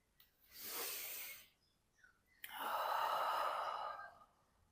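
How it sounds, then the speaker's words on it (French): Breath during a slow yoga session: a short rushing inhale, a pause, then a long, deep, audible exhale close to the mic, with no talk. "on expire à fond"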